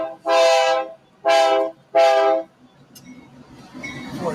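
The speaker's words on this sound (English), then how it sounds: "Sounds like a train coming through." Three long, loud blasts of a train horn sound in an even rhythm, each lasting about half a second, then fade into a distant outdoor murmur.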